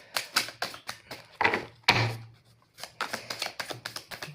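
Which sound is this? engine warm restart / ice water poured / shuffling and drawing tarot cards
shuffling and drawing tarot cards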